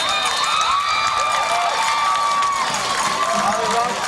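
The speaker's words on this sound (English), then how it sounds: "there's the Viking crowd. Now look, the Viking crowd is actually up and really animated" Fort Walton Beach Vikings fans at a 1998 high school football game against Milton cheer and shout in a dense, loud, sustained roar, with whistles and yells rising above the crowd.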